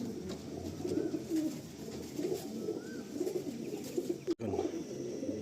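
A pair of pigeons, a chatiyal male and a phulsira female of the Malwai, Madrasi and Andhra kind, coo in low repeated phrases close at hand for several seconds, steady and soft, with no talking.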